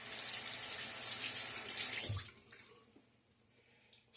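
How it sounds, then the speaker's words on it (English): Water gushes from a tap during a wet shave, a loud, steady splashing rush that cuts off abruptly partway through, leaving quiet room tone with faint clicks. "Splash of water."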